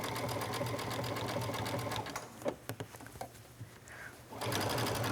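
A sewing machine zigzag stitching along the edge of a pocket in dark thread, running in a fast, steady whir up close, pausing briefly mid-way with a few clicks and thumps before resuming.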